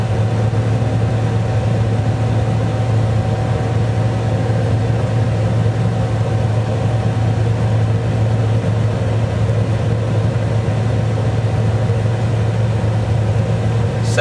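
A John Deere tractor driving forward under AutoTrac guidance gives a loud, steady low engine drone with a constant hum throughout, unchanging and close, with no speech.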